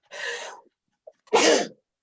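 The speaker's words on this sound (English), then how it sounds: "Excuse me. Gesundheit." Two sneezes in quick succession, the first softer and the second louder and closer, with a brief catch of breath between them.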